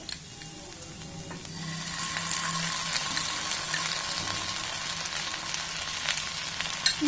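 Macaroni cooks in a pan with red chili sauce and is mixed, producing a low steady sizzle with rattling, grinding scrapes from the stirring spoon, growing slightly louder partway through.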